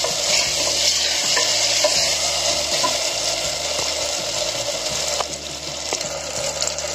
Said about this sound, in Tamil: இப்போ நம்ம ஸ்லோவாக ஸ்டவ் வச்சுட்டாங்க வதக்கணும்